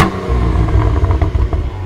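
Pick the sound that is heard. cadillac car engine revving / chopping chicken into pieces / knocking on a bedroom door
cadillac car engine revving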